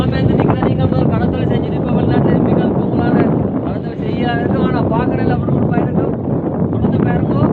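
Strong sea wind roars and buffets continuously across a fishing boat off Point Pedro, loud and close with water noise beneath, while someone talks over it.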